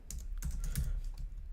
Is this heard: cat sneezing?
no